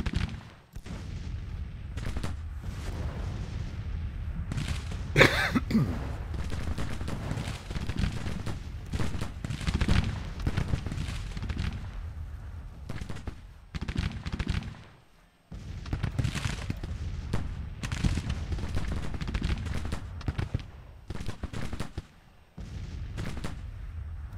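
Massed rifle fire crackles through a Civil War battle scene in the game, a dense, continuous volley of overlapping shots with brief lulls near the middle, steady and fairly loud throughout.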